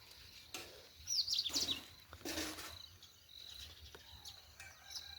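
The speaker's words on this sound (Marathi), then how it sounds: "तुम्हाला चिमण्या दाखवतो मस्त असे" Sparrows perched in a row in a village on a morning after rain, giving short bursts of high chirps over a quiet outdoor background, with a faint cricket-like hum.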